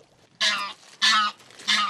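Live male decoy geese call from a hunting hide in the Somme, giving three loud, close honking bursts spaced evenly about half a second apart.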